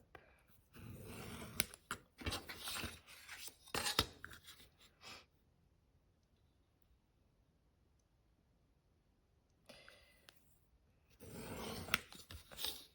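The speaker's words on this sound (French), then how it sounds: "notre petit objet pointu et on trace les plis" A small pointed tool scores fold lines into card paper for a pop-up card, giving bursts of close scratchy scraping and clicking strokes, with a long quiet pause between the first and last bursts.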